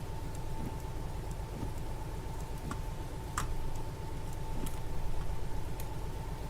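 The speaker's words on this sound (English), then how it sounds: "the rain effects are actually a lot better" Rain effects in the train simulator game Derail Valley produce a steady wash of patter over a low rumbling drone, with occasional sharp ticks and clicks scattered throughout.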